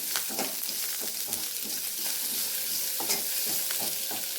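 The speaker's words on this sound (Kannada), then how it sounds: "ಇದನ್ನು ಚೆನ್ನಾಗಿ ಹುರ್ಕೋಬೇಕು ಸ್ವಲ್ಪ ಫ್ರೈ ಆಗುತ್ತೆ ಎಣ್ಣೆ ಒಳಗೆ" A garlic clove and coriander fry in oil over medium flame while being stirred, giving a crackling sizzle with repeated scraping strokes of the spatula, close and fairly loud.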